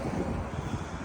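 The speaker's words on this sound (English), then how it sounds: "Because it's windy out here," Wind blows steadily outdoors during a car wash, a dense low rumble of buffeting across the microphone with no clear pauses over about a second.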